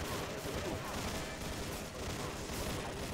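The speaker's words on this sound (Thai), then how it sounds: "ไปเรายิงรัวๆแล้ว" Rapid, continuous machine gun fire from a light machine gun in a first-person shooter game, a dense unbroken rattle held at moderate level through the whole stretch.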